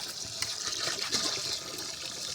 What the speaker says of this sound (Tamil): இன்னும் கொஞ்சம் தண்ணி ஊற்றிக்கிறோம்.